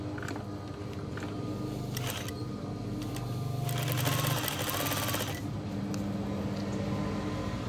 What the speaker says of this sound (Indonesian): Terus kita jahit di bagian pinggir-pinggir kain.